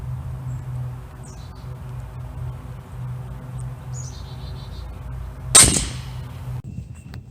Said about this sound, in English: I'm gonna go for this second shot and see where it is.